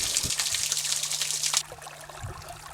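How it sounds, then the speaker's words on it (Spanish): Clear mountain water trickling downhill between stones and scrub, a steady near splashing hiss with small bubbling pulses that eases off partway through, alone with no talk. "El agua cristalina, recién destilada, fluye cuesta abajo por entre las piedras y matorrales"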